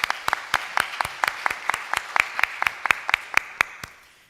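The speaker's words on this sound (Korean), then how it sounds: "우리 하나님께 감격과 감사의 박수를 돌려드립니다." Applause from a church congregation during a Sunday morning worship service, heard as a fairly slow, sparse clapping with distinct individual claps in a steady rhythm that thins out and fades at the end, close and moderately loud.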